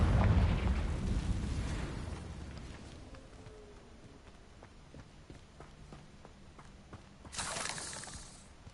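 A Confringo blasting spell goes off in the video game Hogwarts Legacy: a loud, deep explosive burst at the start that trails into rumbling debris and footsteps, with a second bright crackling burst near the end.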